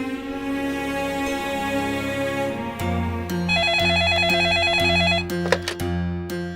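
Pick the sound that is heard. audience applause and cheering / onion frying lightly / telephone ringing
telephone ringing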